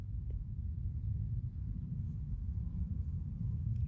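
Deep, continuous low rumble of distant thunder under sunshine and fairly clear skies, steady and unbroken at a moderate level, with no voices.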